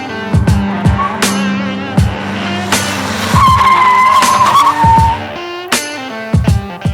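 A no-longer-street-legal race car takes a lap around a parking lot. Its loud engine roars and revs with sharp throttle blips and gear changes, tires squeal for a sustained stretch, and the engine stays close and dominant throughout.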